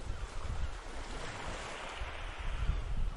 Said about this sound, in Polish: Oddali słychać plusk wody, jakby morze kołysało się do snu.